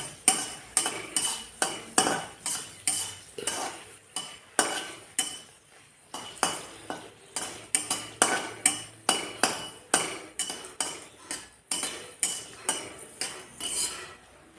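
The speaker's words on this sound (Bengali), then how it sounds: "লঙ্কাগুলো ভাজি উঠাইয়ে তারপরে আমি শাকটা ভাজব" Chillies fry in a pan while a spatula scrapes and taps the metal in a steady rhythm of about two strokes per second, close and clear, with only a faint sizzle beneath and no speech.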